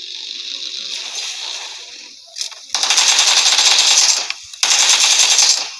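Automatic gunfire in the mobile battle-royale game PUBG Mobile: a steady distant rattle first, then two loud sustained bursts close up, split by a short pause.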